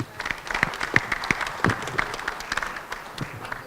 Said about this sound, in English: She needs an applause for this.